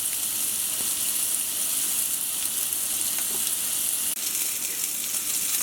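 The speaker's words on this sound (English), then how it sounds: "you can hear that kind of hard sear sound" Steak sears hard in a hot pan, a steady, loud broadband sizzle running unbroken throughout, with faint scattered crackles and pops and one small tick near the end, no voices.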